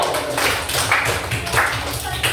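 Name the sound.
classroom clapping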